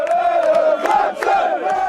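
A small but noisy crowd of football fans chants and cheers together, a loud, close, sustained roar of many voices with rising shouts in the brief moment.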